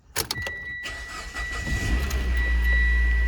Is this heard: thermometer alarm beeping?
no